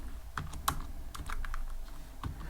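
Keys clacking on a computer keyboard as Python tkinter import code is typed, a quick irregular run of close, crisp taps with small pauses between them, no one talking.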